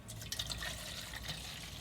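Water is poured into a measuring cup marked in liters, a soft continuous splashing trickle with a few brighter drips, fairly quiet and without talk.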